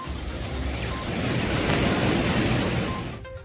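Waterfalls in the Kalvarayan hills of Tamil Nadu, including Periyar, Ettiyar and Thirukkallar falls, roar after heavy rain. The sound is a loud, steady, close rush of water with no voices.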